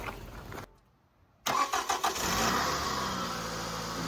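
A car engine cranks and catches after a battery is hooked up, following a brief silence, then settles into a loud, steady, slightly rough run close by with no talking.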